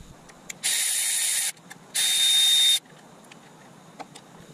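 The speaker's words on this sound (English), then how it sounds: "we've got our 10mm socket on a power ratchet. Just going to go ahead and take these bolts out." Power ratchet with a 10 mm socket backing out front sprocket bolts on a TTR 125: two close, loud whirring bursts of about a second each, separated by a short pause, then faint handling clicks.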